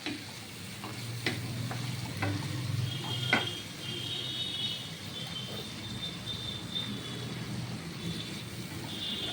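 Tomatoes fry in a pan with a soft steady sizzle, punctuated by occasional clicks and scrapes of stirring.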